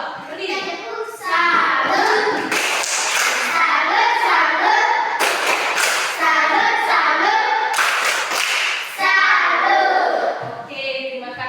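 Schoolchildren in an elementary school classroom clap in loud bursts of rapid, crowded applause separated by short pauses, with children's voices chattering between and beneath the clapping.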